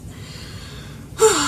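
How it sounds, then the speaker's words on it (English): A sharp, quick breath drawn in near the end, loud and close after a stretch of near silence. "I had to breathe for a second."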